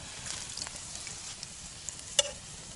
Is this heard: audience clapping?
no